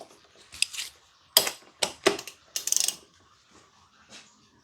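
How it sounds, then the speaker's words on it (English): A ratchet wrench with a 26 mm socket works on the nut atop a car's oil filter cap: several sharp, close bursts of clicking and metallic rasping, separated by quiet pauses. "we're going to remove the oil filter. It's the oil filter. Mine has like this nut on the top, and it's a 26"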